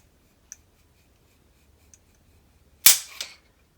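A LaRue MBT-2S rifle trigger is pulled with a trigger gauge: a couple of faint small clicks, then one sharp, loud snap as the trigger breaks, close by and followed by a brief rattle before quiet.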